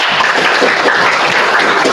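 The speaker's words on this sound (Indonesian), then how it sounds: "Ya, beri tepuk tangan untuk" Classroom applause from students during a mathematics lesson on systems of linear equations, a dense, steady patter of many hands clapping together at close range for about two seconds, with no talk over it.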